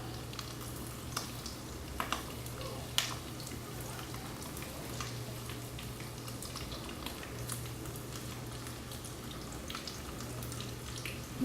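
Russian piroshki deep-fry in oil with a continuous bubbling sizzle, dotted with occasional sharp pops and crackles, heard close with no voices.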